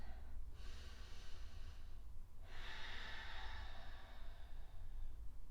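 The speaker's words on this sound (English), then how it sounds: "2 more full cycles of breath." During a gentle hip and back stretch held in extended child's pose, two long, airy breaths rise and fall close to the microphone over a low steady hum, with no speech.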